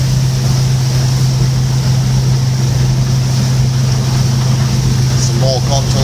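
A boat running at around 20 knots, a steady loud drone of engine and hull over rushing water and wind that stays constant throughout, with faint chirps near the end.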